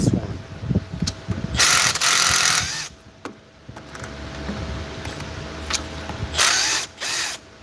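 A ratchet and power tool loosening a bolt on a 2019 Ford Fusion Focus all-wheel drive 2.0 in a garage, with loud bursts of whirring separated by clicking and clanking.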